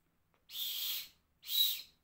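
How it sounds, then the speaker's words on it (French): A survival whistle from an emergency evacuation kit is blown twice, giving two close, breathy, airy blasts of about half a second each with a faint high tone and a short gap between them. "Et nous avons aussi le sifflet."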